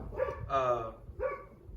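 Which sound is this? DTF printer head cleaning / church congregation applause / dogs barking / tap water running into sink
dogs barking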